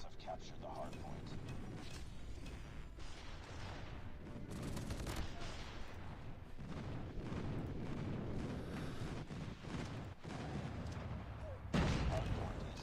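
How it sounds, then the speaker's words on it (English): Airstrike explosions and gunfire in a Call of Duty Mobile Hardpoint match form a dense run of booms and rattling shots, with a sharp louder blast near the end and voices talking over the action. "Friendly airstrike incoming."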